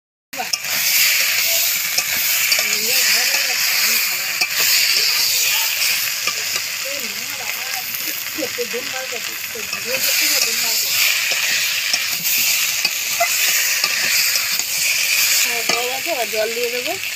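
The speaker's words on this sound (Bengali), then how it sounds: "আলুগুলো দিয়ে দিয়েছি, যেইভাবে কষিয়ে নিচ্ছি ভালো করে" Potatoes fry with a steady, loud sizzle in a pan as they are stirred and cooked down, while a voice talks over the hiss throughout.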